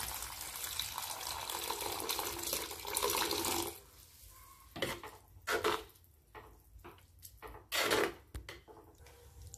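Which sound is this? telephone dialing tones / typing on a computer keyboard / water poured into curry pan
water poured into curry pan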